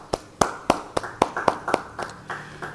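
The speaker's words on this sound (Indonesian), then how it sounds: "Beri tepuk tangan bagi dia." A church congregation at a Bible study gives a short burst of scattered hand claps, about ten sharp, separate claps spaced unevenly and heard from a moderate distance with no talking.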